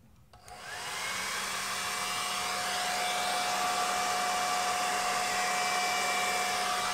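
A hair dryer runs at its lowest heat and speed with the cool button held, switching on and then blowing a steady airy whoosh with a thin motor whine, close and unchanging.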